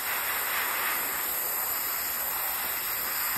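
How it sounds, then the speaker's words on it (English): An airbrush sprays paint onto a model kit of an Eduard B-25J, producing a steady, unbroken hiss of air close to the microphone throughout. "And then I'm moving that paintbrush or that airbrush around."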